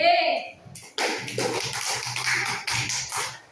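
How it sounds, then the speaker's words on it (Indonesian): Children in a classroom clap for a presenting group, a short burst of uneven, close claps and shuffling that follows a brief spoken phrase, with chatter mixed in. "Tepuk tangan untuk kelompok B."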